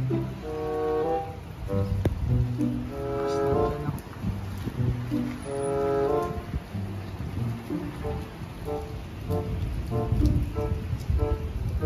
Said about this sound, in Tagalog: Tuloy-tuloy yung ulan